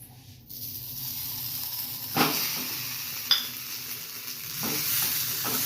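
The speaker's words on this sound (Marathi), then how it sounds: "आता मी पहिले खवा घेऊन भाजत आहे।" Khoa roasts in a pan with a steady soft sizzle and hiss, punctuated by a few scrapes and taps of stirring against the pan; no one talks.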